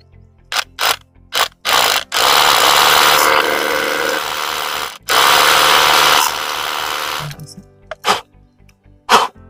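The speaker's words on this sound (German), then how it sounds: "das wichtigste Teil, das heute dazukommt, ist die Akkubohrmaschine." Cordless drill boring into rock while a climbing route's bolts are replaced, with two long, loud, steady whirring runs of a few seconds each, framed by short clicks and brief trigger bursts before and after.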